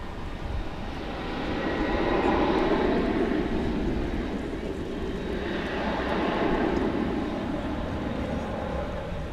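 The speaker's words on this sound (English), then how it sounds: "That is American Airlines Flight 2597, a 737-800 on its way to Burbank" An American Airlines Boeing 737-800 jet at DFW airport roars past, a loud broad engine rumble swelling toward the middle and then easing, with a voice talking faintly under it.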